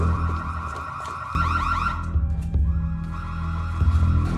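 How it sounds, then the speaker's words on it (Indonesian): A loud, wailing electronic alarm set off as a distraction for the guards at a mansion in a film, sweeping in rising tones over a steady low hum, with a brief break and a second burst. "mulai mengaktifkan alarm sebagai pengalih perhatian para penjaga rumah Mourier"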